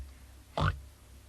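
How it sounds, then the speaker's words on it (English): A single short pig grunt, a brief low snorting burst standing alone against quiet background hiss, as heard in a children's toybox programme. "Pigs grunt like this."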